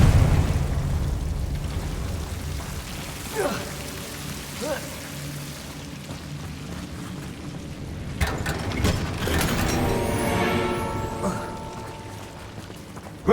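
Confringo fire-blast spells burst in Hogwarts Legacy, several sharp explosive cracks and whooshes over a crackling, rain-like background, with a cluster of stronger blasts toward the end.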